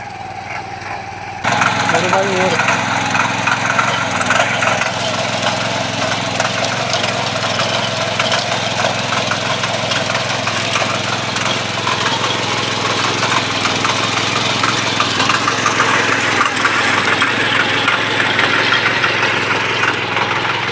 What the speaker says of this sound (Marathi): 7 HP इंडियन पॉवर विडर कोळपणी यंत्र